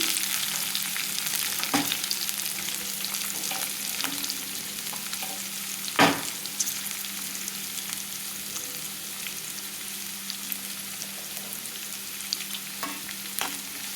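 Chopped onions and green chillies frying in a pan with a steady, continuous sizzle, joined now and then by louder stirring scrapes, with no talk over it.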